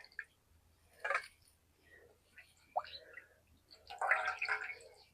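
Raw chicken skin is washed with water in a bowl, with brief splashes and wet squishing in a few separate bursts, the loudest near the end, and faint soft voice in between.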